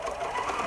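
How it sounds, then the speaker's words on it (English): A sewing machine running a zigzag stitch on a hoodie hums with a rapid, even mechanical chatter, close and fairly quiet, in one short continuous burst. "I'm going to do a zigzag stitch now."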